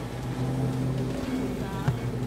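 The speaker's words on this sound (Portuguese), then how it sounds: "o ronco dos motores aí. O pessoal passando." Boat engines roar together at the start of the fifth international peacock bass fishing tournament in Santa Terezinha de Itaipu, a steady loud droning rumble with a brief louder burst near the end.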